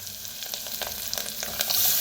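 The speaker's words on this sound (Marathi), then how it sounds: "आता जे आपण ताक बनवून घेतलेलं आहे ओतूया" Buttermilk hits a hot tempering of turmeric and coriander in a pan, giving a brief burst of crackling sizzle that continues steadily for about two seconds.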